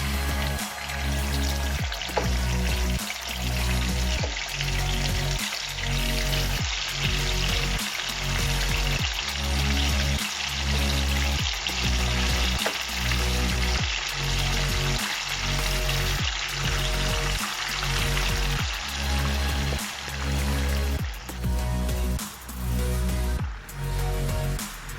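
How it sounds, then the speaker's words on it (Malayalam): Chicken pieces frying in hot oil in a pan, a loud continuous sizzle and crackle with a steady rhythmic bubbling pulse underneath, close and alone with no voices. "അതിനകത്തോട്ട് ഞാൻ ഓരോ ചിക്കൻ പീസായിട്ട് ഇട്ട് കൊടുക്കുവാണ്"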